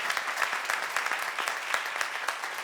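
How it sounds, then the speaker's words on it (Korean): A church congregation claps at a seminar, dense steady applause from many hands filling the room for a few seconds. "박수 좀 쳐."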